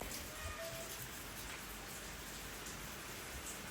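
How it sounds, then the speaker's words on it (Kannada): Steady rain pours down heavily outdoors, where a parked vehicle is being washed by the downpour, making a constant, even hiss with no voices, at a fairly low level throughout. "ಬಟ್ ಮಳೆ ಬಿಡ್ತಾ ಇಲ್ಲ,"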